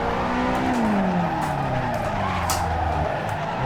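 A Nissan 180SX drifts in the Assetto Corsa racing game, its tires squealing in a long, continuous skid over a loud, wavering engine note, up close and without speech.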